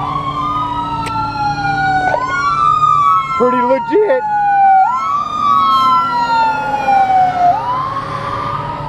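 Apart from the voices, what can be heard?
ambulance siren passing on nearby road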